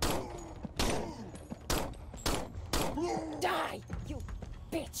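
Gunfire in the sci-fi third-person shooter Phobos Subhuman, set in Athens, comes as several sharp, loud bursts spaced across the stretch, mixed with game sounds and what seem to be vocal grunts.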